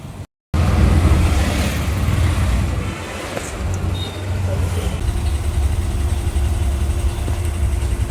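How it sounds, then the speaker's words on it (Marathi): Traffic jam heard from inside a rickshaw: a steady low engine idle and road rumble close by, with faint passing vehicle noise and occasional brief sounds on top, no clear talk. "ट्राफिक लागलेलं आहे"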